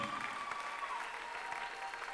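A church congregation at a Sunday prayer service claps together in a quiet, continuous patter, heard at a low level for a couple of seconds.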